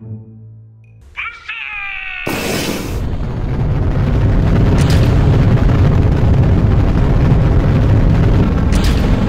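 Simulated launch of a Hwasong-12 single-stage ballistic missile from an eight-axle transport vehicle: a short tonal rise, then a sudden loud roaring blast that settles into a sustained, broad rumbling roar to the end.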